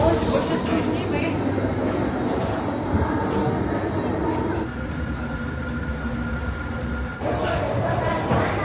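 A train sits at a high mountain railway station in Switzerland, Europe's highest at 3,454 metres, giving off a loud, steady rumble that shifts tone midway, with voices faintly mixed in.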